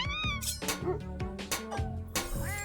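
Cartoonish money cats in the roulette roguelike deckbuilder game Roulette Hero, a rapid series of bright, pitch-bending meows overlapping one another, loud and close with layered game chimes.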